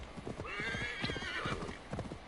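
A horse in Assassin's Creed Valhalla clip-clops close by and lets out a long, clear whinny over the hoofbeats, with a faint voice in the background.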